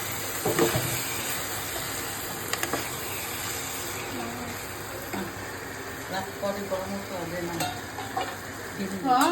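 Ground spice masala of cumin, coriander and chilli powder sizzles and fries steadily in a pan, with scraping stirs over the continuous hiss and occasional clinks close by.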